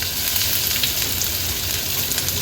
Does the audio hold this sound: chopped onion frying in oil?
yes